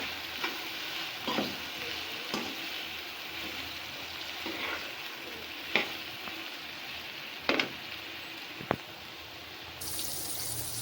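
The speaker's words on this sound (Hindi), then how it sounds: "चनों के साथ भी तकरीबन इसको 2 से 3 मिनट के लिए अच्छा से फ्राई करेंगे।" Chickpeas frying in a pan with salt and chili for deghi chana pulao give a steady close sizzle, broken by occasional stirring scrapes and clatters, with no one speaking.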